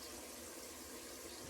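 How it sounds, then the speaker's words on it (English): Tap water runs steadily into a pot being filled for cooking noodles, a continuous rushing pour at moderate level with no breaks. "I forgot to fill up the water."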